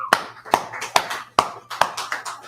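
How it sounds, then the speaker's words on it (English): Slow, evenly spaced hand claps ring out at a religious Feast of Tabernacles gathering, about six crisp close claps in a steady rhythm, with no voices in between. "That brother, a round of applause."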